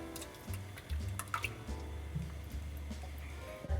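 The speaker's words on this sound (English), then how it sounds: "Here's the 2nd can of coconut milk." A second can of coconut milk glugs and splashes into a pot of coconut chicken noodle soup, with wet drips and irregular sloshing at close range.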